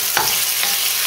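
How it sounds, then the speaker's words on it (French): Lamb pieces searing in a hot pan for a navarin, the meat rubbed with a little sugar; a steady close sizzle with a couple of brief stirring scrapes, no talking. "je vais mettre ma viande à rôtir de tous les côtés"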